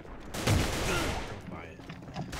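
AK-12 rifle fire in the shooter game Alliance of Valiant Arms, a burst of rapid shots up front that tails off into a reverberant decay, with faint game sounds after.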